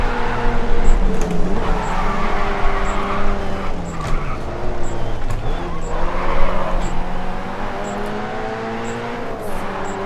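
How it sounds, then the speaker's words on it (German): Loud, close racing-car engine roar from the video game Grid 2, revving and shifting pitch repeatedly with screeching tyre skids throughout, and a voice speaking briefly underneath. "Das war ein krasser Unfall"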